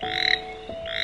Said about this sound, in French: Petit crapaud